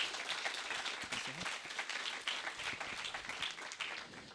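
A small audience claps after a talk on becoming chief economist at Banco Inter, a thin scattered patter that is fairly faint and continues steadily, with a few murmured voices underneath.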